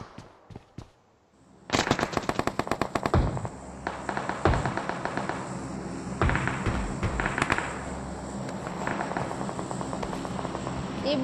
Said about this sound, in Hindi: फ्लेयर लो फ्लेयर भी चल गई